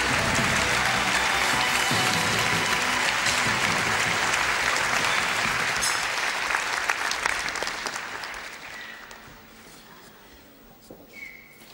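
Audience applause for Shaolin monks at a stage performance, a dense sustained clapping from a large crowd that fades gradually toward the end, leaving a few scattered claps.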